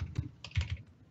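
Computer keyboard typing during a Minecraft survival session, a few quick clustered keystrokes close by, irregular and crisp, with no talk.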